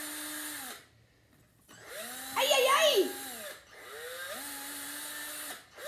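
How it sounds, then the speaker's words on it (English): Power drill drilling: a whirring motor runs in bursts that rise and fall in pitch, with a brief grinding bite into material and a voice exclaiming. "Then we get the drill and we drill in."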